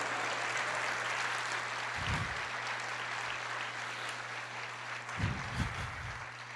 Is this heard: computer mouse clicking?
no